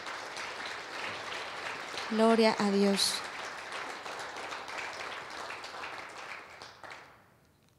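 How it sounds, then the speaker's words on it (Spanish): A church congregation applauds during a Sunday service, a steady, moderately loud spread of clapping that fades out at the end, with a voice speaking briefly partway through. "vamos a dar un aplauso al Señor por nuestras finanzas, por favor"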